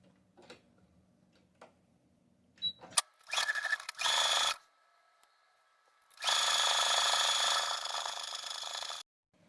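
A sewing machine stitches a fabric pencil case in two bursts, a short one and then a longer steady whir of about three seconds, after some quiet ticks and handling sounds.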